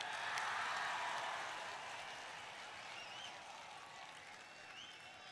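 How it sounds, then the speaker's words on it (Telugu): An audience at a public political meeting in Tirupati claps for Jairam Ramesh, producing steady, dense applause from a large crowd. It stays loud and continuous throughout, easing slightly toward the end. "రమేష్ గారు చప్పట్లు కొట్టండి అందరూ"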